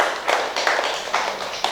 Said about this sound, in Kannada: ಮತ್ತೊಮ್ಮೆ ಚಪ್ಪಾಳೆ ಹೊಡೆಯೋದ್ರ ಮೂಲಕ ವಂದನೆಗಳನ್ನು ಸಲ್ಲಿಸೋಣ